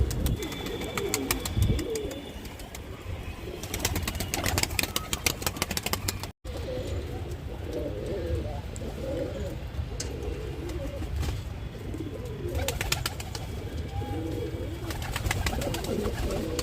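A captured wild pigeon coos in repeated low, throaty phrases close by. A steady mechanical hum sits beneath the calls, and a brief dropout breaks the sound.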